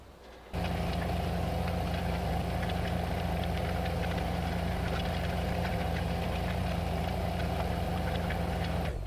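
A tractor engine in Farming Simulator 15 drones steadily at close range while working a field, a loud continuous rumble with a knocking mechanical undertone and no voices.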